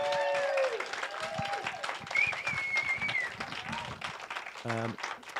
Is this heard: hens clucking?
no